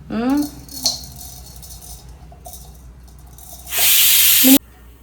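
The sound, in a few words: mixer grinder grinding spices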